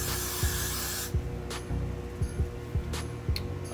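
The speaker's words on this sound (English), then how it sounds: "I'm just gonna add a little bit of hairspray" Hairspray is sprayed onto loose waves in one close, hissing burst lasting about a second, followed by quieter handling and light rubbing sounds.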